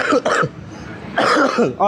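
Several harsh coughs close by, in two short bursts separated by a brief pause, ending with a voiced throaty sound.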